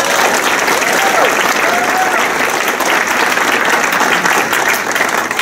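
An audience at a Hmong community celebration gives a steady round of applause, dense continuous clapping with a little crowd noise, filling the whole moment at an even loudness.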